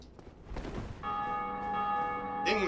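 Bell ringing in Dark Souls Remastered: a sustained, clear metallic chime with bright ringing overtones that enters after a short stretch of muffled noise and keeps resonating to the end.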